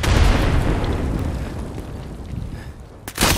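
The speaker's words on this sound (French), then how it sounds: "Oh, grenade!" A grenade explodes in Escape from Tarkov with a loud, close, booming blast whose low rumble fills the clip and fades slowly, followed by a sharp burst of noise at the very end.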